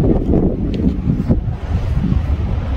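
Strong wind gusting on a mountain summit buffets the microphone in loud, continuous low roaring blasts.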